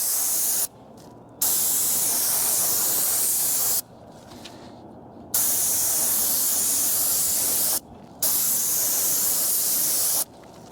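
A paint sprayer hisses loudly and steadily into a roller nap in long continuous bursts separated by brief pauses, while a brick chimney is being painted.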